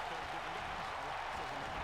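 A virtual arena crowd in the WWE 2K19 wrestling game cheers and applauds during a match in Gainesville, a dense, steady roar of noise throughout.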